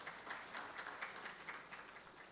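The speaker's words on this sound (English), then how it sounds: "A huge round of applause" An audience at a collaborative workshop applauds a speaker, giving a faint, steady wash of clapping heard from a distance.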